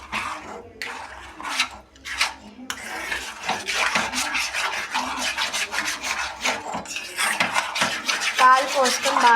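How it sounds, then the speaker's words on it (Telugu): Milk is mixed into syrup in a pan with a spoon, producing continuous close scraping and rubbing strokes in a quick, steady rhythm, loud and up front, with a brief voice here and there. "పాలు పోసుకొని బాగా కలుపుకోవాలి"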